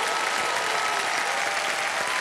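Steady, dense studio audience applause on the KBC game show set, a continuous wash of clapping filling the whole stretch with no talk over it.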